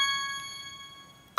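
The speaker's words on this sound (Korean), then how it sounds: "갑자기 벨이 울리네요." A quiz-signal bell on a radio-style broadcast rings with a clear sustained metallic tone that slowly decays, ending in a brief louder clatter.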